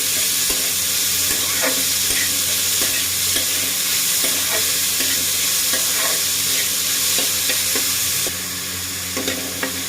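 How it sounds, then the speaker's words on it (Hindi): Finely chopped onions frying in a pan for a restaurant-style paneer curry, giving a loud, steady, close sizzle and hiss with faint stirring scrapes, no voices. "अब इसमें मैं डालूंगी ये 3 बड़े प्याज हैं, इसको फाइन चॉप कर लिया है, इसे डालेंगे। अब इसे मैं फ्राई करूंगी।"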